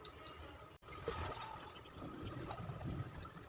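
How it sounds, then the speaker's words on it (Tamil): Water poured from a container into flour batter being mixed, a continuous splashing trickle with soft gurgles, close and moderately quiet for several seconds. "இப்போ இதை வந்து நம்ம தண்ணி ஊற்றி கரைச்சி வச்சுக்கலாம்"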